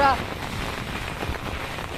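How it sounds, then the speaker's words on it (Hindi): Heavy rain pours steadily onto surfaces in Haldwani and Rudrapur, Uttarakhand, a dense continuous wash of drops that stays loud and even throughout, with no voices over it. "झमाझम बारिश हो रही है"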